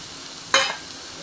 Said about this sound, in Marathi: कांदा चिरून घेतलेला तो टाकते त्याला छान असं गोल्डन कलर येईपर्यंत चांगलं भाजून घेणार आहे